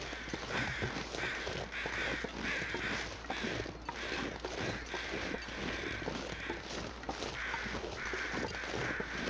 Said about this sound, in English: There's some crows, but it's a flyover.